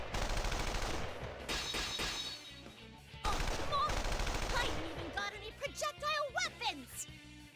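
Rapid bursts of gunfire and heavy artillery at barricades in the fighting game Persona 4 Arena Ultimax, loud and dense over game music, with a voice talking in the latter part.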